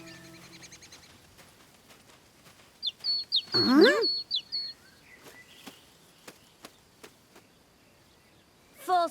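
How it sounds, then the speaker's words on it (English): A cartoon blue tit gives high, quick chirps and tweets, mixed with a sweeping whistle and clicking sound effects in an animated forest scene. The calls come in short scattered bursts over quiet background. "False alarm. That was a blue tit."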